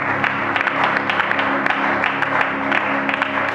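A church congregation applauds steadily, a continuous wash of clapping from many hands that holds at an even, fairly loud level throughout, with faint tones underneath.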